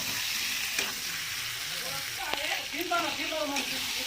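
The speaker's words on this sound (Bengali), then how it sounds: "এখানে দেখো মাংস করে কষানো হচ্ছে ভালো" Chicken meat sautés in a pan with a constant close sizzle and a few stirring clatters, while a voice speaks faintly over the frying.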